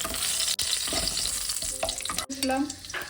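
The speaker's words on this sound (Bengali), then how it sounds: "সামান্য গোটা জিরে আর একটা তেজপাতা আর একটা শুকনো লঙ্কা ফোড়ন দেব।" Whole cumin, a bay leaf and a dried red chili crackle in hot oil, a dense bright sizzle with small pops and a few utensil clinks, close and fairly quiet, with no voices.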